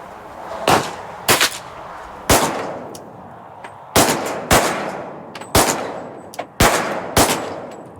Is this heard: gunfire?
yes